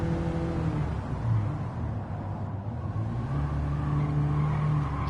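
Steady race car engine drone from the video game Gran Turismo 7, a continuous loud hum with slight shifts in pitch as the car holds speed, with no talk over it.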